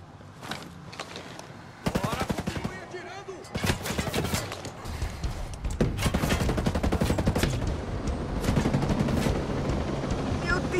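Sustained gunfire in Ghost Recon Breakpoint, long rattling bursts of automatic fire growing denser and louder across the stretch, with some scattered louder shots mixed in.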